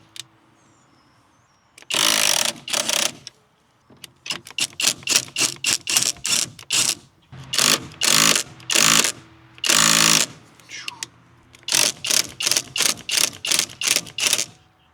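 An impact driver set to its highest mode works on a stubborn part of a SeaStar boat steering system. It fires loud, close bursts of hammering rattle, some long and some in quick short stutters, separated by brief silences.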